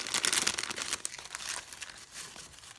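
Crepe paper rosettes being handled give a dense, close crinkling and rustling that runs steadily with no talk.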